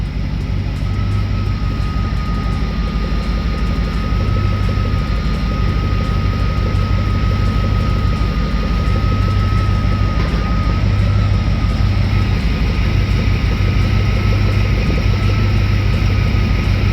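A Dodge W250 plow truck engine idles steadily and smoothly, a continuous close rumble with a constant pitch and no talking over it.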